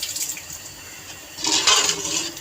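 Water is poured into a pot of potato and egg curry being cooked with extra broth, heard as a short splashing rush that swells near the end of the moment, close and fairly loud.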